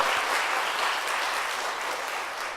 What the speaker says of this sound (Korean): 집사님 함께 우리 박수해 드리겠습니다